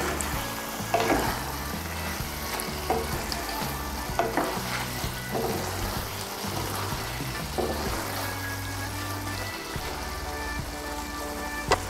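Cabbage and egg curry sizzles and fries steadily in a pan while a utensil stirs it, with scattered scraping knocks over a dense, continuous crackle.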